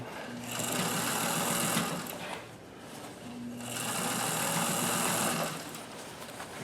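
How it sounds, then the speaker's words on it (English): A sewing machine stitches inside the leg of a pair of jeans, running in two sustained, steady whirring bursts separated by a brief easing off, close and fairly loud throughout. "I'm just literally sewing inside the pant leg like here."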